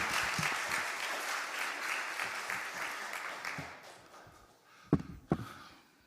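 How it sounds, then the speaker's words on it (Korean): A church congregation at a youth gathering applauds steadily to welcome the pastor, a dense wash of clapping that fades out, followed by a couple of sharp knocks. "우리 박수로 환영할까요?"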